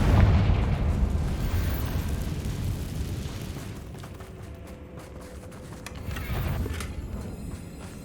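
Confringo fire-spell blasts in the Hogwarts Legacy video game, cast during a fight with Ranrok's loyalists, rumble as a loud, continuous run of booming explosions that dip midway and swell again near the end.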